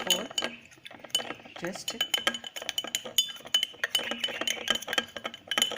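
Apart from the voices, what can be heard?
stirring microbiology growth medium with a spatula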